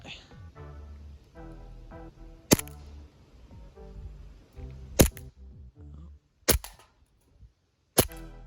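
A Tokyo Marui FNX-45 airsoft pistol fires four sharp, close, separate shots about two seconds apart. A low voice and background noise run between the shots.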